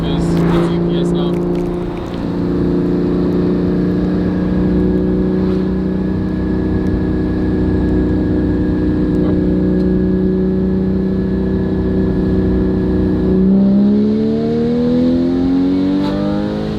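A Porsche GT4 981 fitted with a Valvetronic Designs exhaust drives at a steady engine drone heard from inside the car, then revs up toward the end as it shifts.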